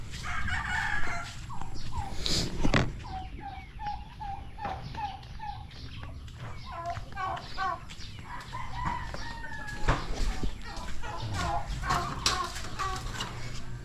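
Farmyard fowl sound off outdoors with a run of short, repeated gobbling and clucking calls from a turkey, mixed with rooster-like crowing and other poultry, fairly close and steady, with a sharp knock near the start.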